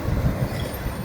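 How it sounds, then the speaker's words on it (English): The tail end of a freight train rolls past on a desert track near a New Mexico ghost town, a steady close rumble of wheels and rail noise with no voices. "Here's the back end of the train. The tail end of the train."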